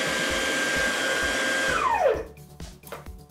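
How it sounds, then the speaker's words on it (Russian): An electric ducted fan impeller in a Freewing F-35 Lightning II RC jet, powered by a 4S battery through a servo tester, spins with a loud high whine, then winds down as the pitch falls, leaving quieter clicks and rustling. "Подключил через сервотестер батарейку 4S, поскольку 6S у меня пока батарейки нету. И импеллер работает."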